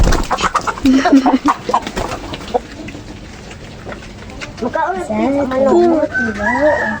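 Chickens cluck and squawk nearby, with a rooster-like crowing call rising near the end; human voices mix in at times.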